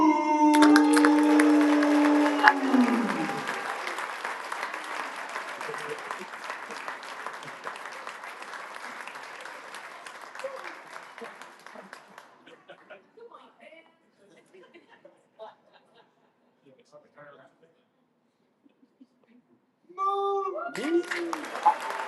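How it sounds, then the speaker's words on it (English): A crowd at a Nashville SC Unified Team event breaks into loud sustained applause that slowly fades over about twelve seconds, with a voice speaking over the start and again at the end. "please give a huge round of applause to my brother"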